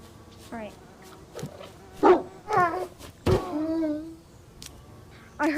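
A dog in a video game yelps and whimpers after being hurt, giving several short, high cries scattered across the moment, with a player's voice talking over parts of it.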